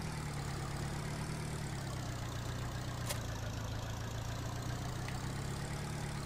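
A tractor engine in Farming Simulator 2013 drones on steadily, an even low rumble with a faint hiss that barely changes pitch, running alone without any talk.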